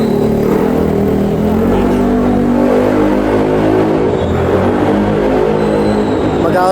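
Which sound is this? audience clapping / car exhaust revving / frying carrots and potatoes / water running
car exhaust revving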